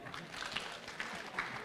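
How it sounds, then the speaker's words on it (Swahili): An audience at a Nairobi public security forum gives a brief, faint burst of clapping. "Tumpatie makofi."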